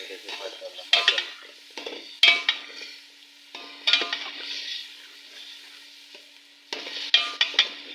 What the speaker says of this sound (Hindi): तो फिर आपने ये टमाटर की ग्रेवी डाल दी